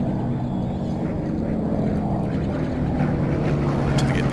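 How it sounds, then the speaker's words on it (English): A low, rumbling engine drone of a patrol aircraft in the video game Plane Mechanic Simulator passes overhead, steady and fairly loud, with a deep propeller-like hum throughout. "Sounds like the air patrol is coming back around."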